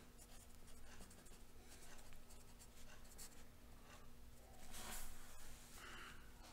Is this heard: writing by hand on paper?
yes